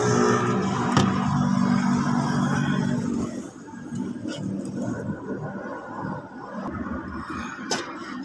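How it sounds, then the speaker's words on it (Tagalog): A Hyundai or Kia car engine cranks and runs after a fuel pump assembly repair, a loud steady rumble for the first three seconds that then drops to a lower, uneven idle, heard alone and close. "Subukan natin i-start siya kung aandar."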